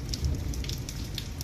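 Evening rain falls steadily in a village during a power cut, a soft continuous patter with scattered nearby drips, fairly faint and with no voices.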